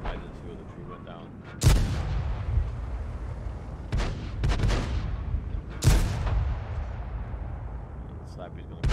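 World of Tanks tier 6 stronghold skirmish: two loud, booming tank cannon shots about four seconds apart, each with a sharp crack and a long rumbling decay, plus a smaller thump between them over steady battle ambience.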